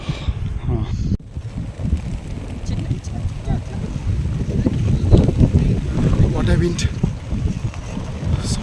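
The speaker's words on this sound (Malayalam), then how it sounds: "ഇവിടെ മുകളിലേക്ക് വരുന്തോറും കാറ്റ് കൂടി കൂടി വരികയാണ്" Strong wind at Chele La Pass in the Himalayas buffets the microphone with a constant low roar and gusty rumble, while a person talks underneath.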